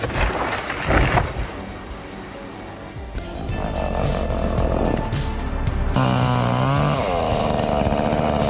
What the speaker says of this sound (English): High above the ground, a man fearlessly tackles a tree, chainsaw in hand.